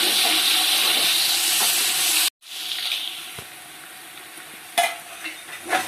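Ginger garlic paste fries in hot oil for chicken biryani, a loud, close, dense sizzle that drops out briefly, then returns softer with scraping stirs and renewed crackling bursts, no one speaking.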